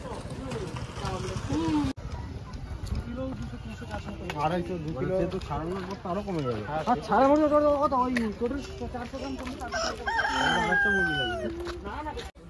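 A rooster at a roadside chicken shop crows in drawn-out, wavering calls, fairly close, mixed with people talking and surrounding street bustle.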